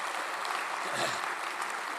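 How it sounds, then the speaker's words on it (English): Audience applause at a Sea Service Luncheon, a steady wash of clapping from a crowd that holds an even level throughout. "Let's give them a nice round of applause."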